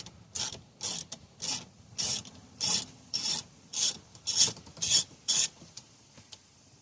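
A hand ratchet backs out 7mm bolts on a 2013 Ford Fusion Hybrid, giving ten even bursts of close, bright clicking at a steady rhythm with short pauses between strokes, no talking.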